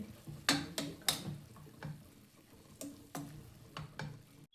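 Ground masala paste and sprouted horse gram being stirred in hot oil: a soft, quiet sizzle broken by a handful of sharp spoon taps and scrapes at irregular intervals, with no voices.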